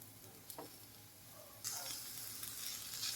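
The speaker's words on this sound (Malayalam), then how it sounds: "അപ്പം നമുക്ക് ചാമ്പക്ക ചെറുതായി കട്ട് ചെയ്തത് ഇതിലേക്ക് ഇട്ട് കൊടുക്കാം" Chopped rose apple tossed into frying coconut in a pan, giving a faint, soft sizzle with a couple of small clinks, then a brighter hiss as the pieces land, quiet and without talk.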